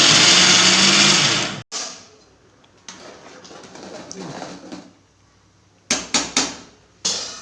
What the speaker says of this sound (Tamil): வெள்ளைப்பூடு தேங்காய் எல்லாம் போட்டு அரைச்சி வச்சுக்கணும்